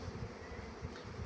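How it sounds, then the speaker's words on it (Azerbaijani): A healthy honeybee colony with a young 2025 queen hums in a steady, dense drone from the open hive, close and continuous with no talking. "Baxın, bu gözəl, mükəmməl bir arı ailəsidir."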